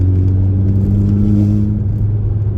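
An Audi 2.0 TFSI engine with runner flaps removed hums loud and close with a strong low drone, its pitch rising slightly as it accelerates, steady throughout with no voices.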